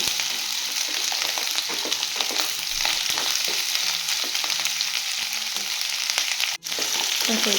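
Vegetables fry lightly in oil for a Bengali chorchori, a bright steady hiss and crackle filling the whole stretch with faint stirring scrapes, briefly dipping near the end, no one talking.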